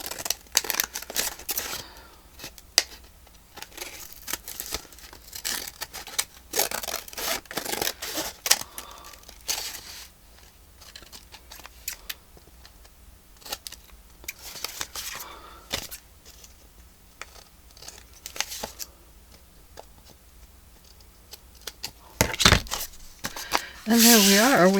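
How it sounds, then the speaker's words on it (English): Scissors snip through a folded paper card in short bursts of crisp cuts and rustling paper, fairly close and clear, with quieter handling in between and a louder crinkle toward the end. "And now I'm going to cut it like this"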